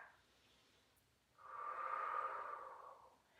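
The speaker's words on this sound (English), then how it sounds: "and take a breath" A single long breath during a gentle seated yoga session, a soft airy inhale swelling for about two seconds, close and quiet, no talking.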